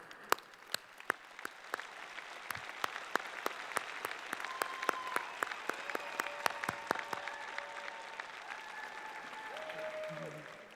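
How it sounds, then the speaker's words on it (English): Graduates and guests applaud at a university convocation ceremony for the Faculty of Arts, sustained crowd clapping in a large hall with a few sharp, close individual claps standing out above the steady wash. "I think the graduating class needs to give a special round of applause"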